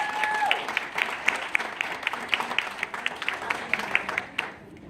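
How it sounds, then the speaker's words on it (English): A modest audience at a Kidney Foundation awards event claps for its top fundraisers, a lively patter of hands with distinct claps audible that fades out at the end. "So let's give them all a big round of applause."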